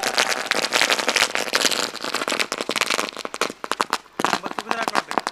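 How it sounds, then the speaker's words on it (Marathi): A rapid barrage of firecrackers bursts in dense, sharp crackling volleys to welcome a bullock cart race in Maharashtra, loud and close with brief gaps between strings of pops. "फटाक्यांच्या आतिषबाजीमध्ये स्वागत"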